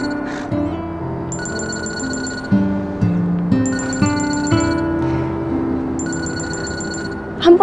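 A telephone rings in three repeated bursts of trilling bell tones over a musical background of sustained notes in a Korean drama scene, with speech briefly audible.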